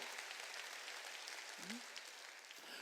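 A church congregation at a Wednesday worship service claps together in a steady, diffuse patter of many hands, with a brief low vocal sound partway through.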